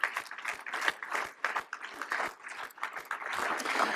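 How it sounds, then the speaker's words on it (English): Audience applause at a Wilmington chamber business event, a fairly sparse, uneven patter of individual claps from a modest crowd, close and steady over a few seconds with no talk. "And join me, another round of applause for them"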